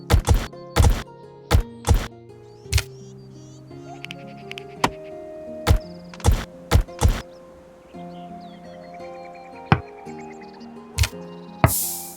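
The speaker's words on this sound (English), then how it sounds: "I'll set some trees to be cut" Axe strikes from tree chopping in the medieval colony survival game Going Medieval, a series of sharp, irregular thunks and chops over a soft musical backdrop, with no talking.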